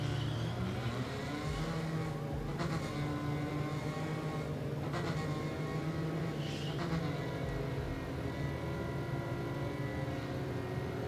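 A car in a video game drives steadily with a continuous engine drone that holds at a fairly even pitch and loudness, broken by a few brief shifts, with no one speaking.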